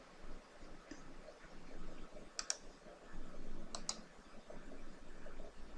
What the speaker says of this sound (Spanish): Vamos a darle aquí clic derecho